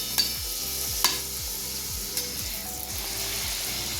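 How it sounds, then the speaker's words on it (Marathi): Bhature frying in hot oil give a steady, loud sizzle and bubbling hiss, with a few light clinks of a utensil against the pan and no talking. "अशा पद्धतीने मी बाकीचे सगळे भटुरे तळून घेतेय."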